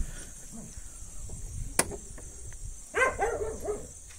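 A couple of short dog barks ring out near the end after a sharp click, over a quiet background with faint insect-like hiss.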